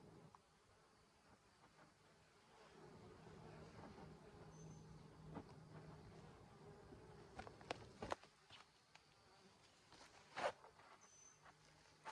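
Honey bees robbing around a hive during the fall honey flow hum and buzz steadily at close range, with faint rustling and a few sharp clicks and handling noises and no talking.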